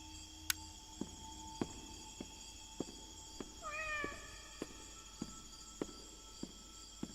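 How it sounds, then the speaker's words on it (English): A cat in a video game gives a single short, faint meow midway through, set against a quiet backdrop of steady, regularly spaced clicking ticks and a soft electronic hum, with no voices. "I have petted the cat, but I can pet him again."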